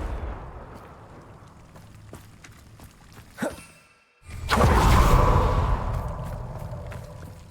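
Confringo fire spell cast in Hogwarts Legacy: a short whoosh, a brief drop to near silence, then a loud, broad explosive blast that rumbles and slowly fades over several seconds.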